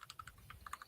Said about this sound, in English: Clicky clicky. Oh, it's my keyboard.